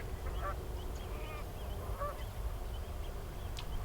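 Faint honking calls from ducks at a slough sound in the distance, a few scattered cries over a low, steady outdoor rumble.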